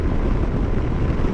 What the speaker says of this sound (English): I can tell right now it's very windy, and I can still hear a certain amount of the wind